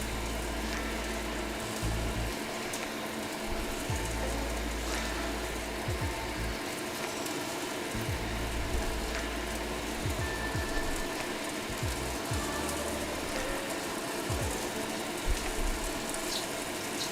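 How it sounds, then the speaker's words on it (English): Beef searing in a hot pan for crispy chow fun, a steady broadband sizzle that runs unbroken through the whole stretch with faint clinks and low thumps underneath, and no talking. "making sure that we have a good solid sear on both sides here"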